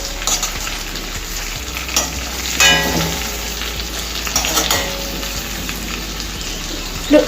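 Brinjal masala for a stuffed eggplant curry sizzling in a pan while a spoon stirs in turmeric, a steady close frying crackle with occasional scraping strokes and no voices.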